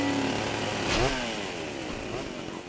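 Enemy chainsaws in the video game Stubbs the Zombie buzz and rev steadily, with a rising and falling whine near the one-second mark, loud and continuous through the short stretch with no talk over it.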